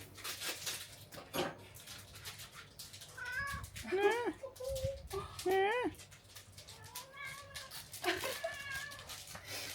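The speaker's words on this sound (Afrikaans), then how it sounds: "Jammer kat." A cat whines and meows in repeated drawn-out cries, close and fairly loud, while a person talks softly in between and over the calls.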